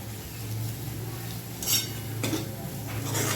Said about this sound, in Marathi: असं एक ते दोन मिनिट आपल्याला तेलामध्ये सर्व मसाले छान परतून घ्यायचे आहेत